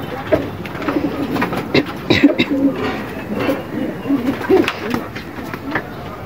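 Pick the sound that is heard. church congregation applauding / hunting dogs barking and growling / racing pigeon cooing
racing pigeon cooing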